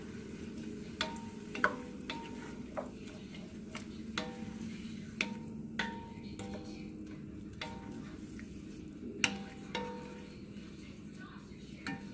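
Frozen broccoli is stirred in a pot for broccoli cheddar bacon soup, with faint, sparse ticks and taps of a spoon against the pot over a quiet background.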